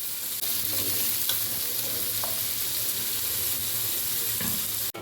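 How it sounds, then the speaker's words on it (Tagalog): Sliced onions fry in cooking oil in a pan, giving a steady, dense sizzle throughout, with a few faint clinks of stirring. "Fry 3 medium-sized sliced onion."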